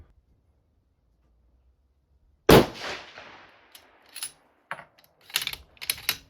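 A 6.5 PRC rifle firing a 140gr Berger bullet at a range lets off one loud, sudden shot out of near silence, then a decaying tail and a few scattered clinks and knocks.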